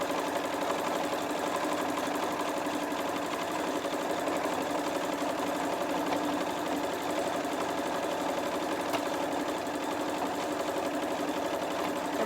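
A sewing machine runs steadily while stitching a quilted star place mat, its even motor whir and needle chatter holding constant and close throughout.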